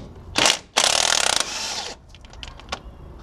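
A hand ratchet loosens a bolt on a 2007 Ford F-150 during bearing work, giving two close bursts of rapid clicking, then scattered light metallic taps and handling noises.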